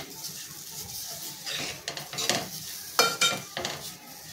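A spatula scrapes and knocks around a pan of gram-flour jhunka with fresh coriander, its irregular stirring strokes over a soft, steady sizzle, close and fairly quiet.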